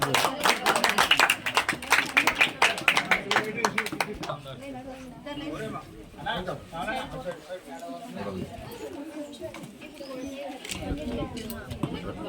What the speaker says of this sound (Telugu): పిల్లలు చప్పట్లు కొట్టండి.